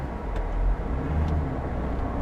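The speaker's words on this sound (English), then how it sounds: "so now we're going to go take the Camaro for a ride" A 2010 Chevrolet Camaro SS/RS being driven normally, heard from inside as a steady low engine and road rumble at an even, moderate level with no speech.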